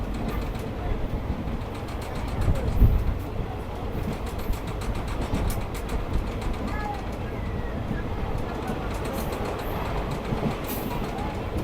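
Steady rumble and rhythmic rail clatter of the Bamanhat–Alipurduar passenger train running at speed, heard from inside the carriage, continuous and fairly close with no talking.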